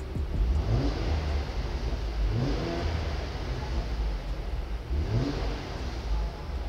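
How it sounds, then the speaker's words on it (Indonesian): A Mercedes-AMG engine revs in repeated swells, the exhaust note rising and falling three times, muffled and steady as heard from inside the cabin. "Coba kita geber ya, suara knalpotnya dari dalam kabin apakah terdengar?"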